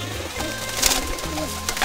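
A jildar pigeon gives soft, low cooing close by, a few murmuring coos over faint background noise.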